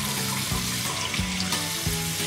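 Water running from a sink tap during a hairless guinea pig's bath makes a steady, unbroken rushing stream, close and fairly loud, with no voices.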